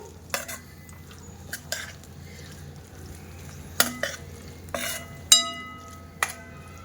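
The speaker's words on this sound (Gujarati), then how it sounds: "બા ઉમેરે છે ગુવાર, રાઈ, જીરું સહિત બધું ઉમેરી દેવું અને મિક્સ કરી લેવું." Cluster beans with mustard seeds and cumin are mixed in a pan, a quiet low background broken by several sharp scraping strokes and clinks of a spoon against the metal at irregular intervals.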